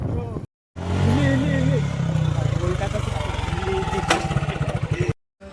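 Suzuki Gixxer motorcycle engine revving and pulsing as the rider accelerates and shifts down a gear, close and loud, with voices talking over the engine noise.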